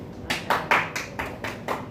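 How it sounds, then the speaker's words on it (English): Brief scattered hand clapping from a few people at a backyard quiz, about seven distinct claps in an uneven rhythm, close and fairly quiet, with no voices. "We're applauding people warming an egg."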